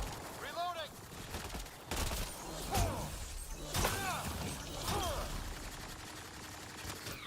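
Gunfire in the video game Mass Effect Andromeda comes as several sharp bursts at intervals, layered with sweeping energy-like tones, rumbling game sound and a voice speaking in between.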